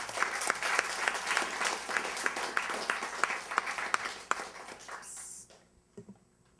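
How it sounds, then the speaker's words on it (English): An audience gives a sustained round of applause, dense steady clapping filling the room at moderate volume for about five seconds before fading out into near silence. "Give everybody a round of applause"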